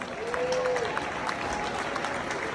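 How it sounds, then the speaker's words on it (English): Audience applause fills a charity event hall, a steady dense wash of clapping from a crowd with some voices mixed in. "Big round of applause."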